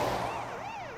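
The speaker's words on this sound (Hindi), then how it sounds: "सायरन की आवाज आ रही है, साहब आ गए होंगे।" A police car siren in an action film wails in rising and falling sweeps, steady and fairly loud, for about a second with no speech.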